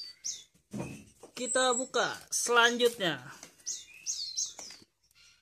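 Pelatuk beras birds chirp in short, high twittering bursts near the start and again toward the end. Someone talks over and between the calls, and the birds are close and moderately loud.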